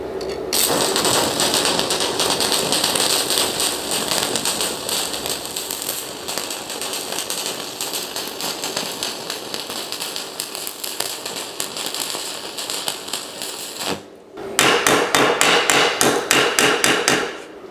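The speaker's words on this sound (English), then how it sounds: "So we're gonna weld the second one now with a bit less power and see how that goes." MMA stick welding with a ToolMania 160 TIG/MMA welder gives a loud, steady crackling sizzle of the arc for about fourteen seconds, then a short pause and another burst of rapid crackling.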